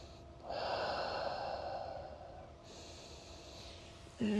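Heavy audible breathing during a yoga thread-the-needle stretch, a long rushing exhale with a second softer breath after it, close and alone.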